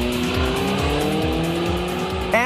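A Donkervoort sports car with a 270-horsepower engine accelerating hard, a loud close engine tone rising in pitch through repeated gear pulls, with a faint tire squeal near the end.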